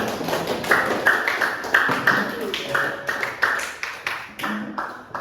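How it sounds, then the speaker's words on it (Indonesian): A classroom claps for a student group called to the front: a scattered run of individual claps and taps at uneven spacing, fairly close, with voices and other classroom sounds mixed in. "berikan tepuk tangan untuk kelompok 1"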